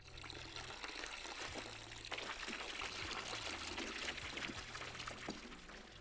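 Liquid pours steadily into a container while brewing in a homebrew video game, a continuous trickling stream that runs for several seconds without talk.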